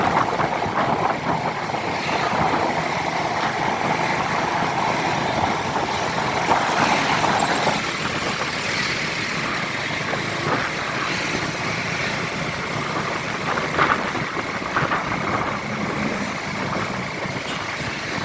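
A continuous engine drone of an old motorcycle being ridden, with steady wind rush over the microphone throughout; no talking.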